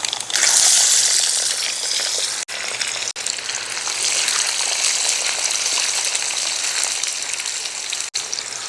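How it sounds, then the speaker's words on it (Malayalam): Garlic sizzles in hot oil for a beef pickle, with a loud, steady frying hiss that flares up briefly at the start and holds nearby with scattered crackles. "നമുക്ക് വെളുത്തുള്ളി ഇട്ട് കൊടുക്കാം"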